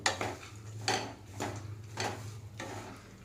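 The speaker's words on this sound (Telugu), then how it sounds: "ఇలా ఒక్క టేబుల్ స్పూను గసగసాలు వేసుకోవాలండి వేసుకొని ఇవి కూడా మంచిగా పండుగ అయ్యేటట్టు ఫ్రై చేసుకోవాలి" Dry poppy seeds being stirred in a pan for a sugar-free dry fruits laddu, heard as a handful of distinct scraping, clinking strokes of a utensil against the pan at a steady, unhurried pace. The clicks sit close and moderately loud over a low background hum.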